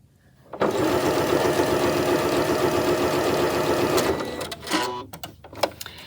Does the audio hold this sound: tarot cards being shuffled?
no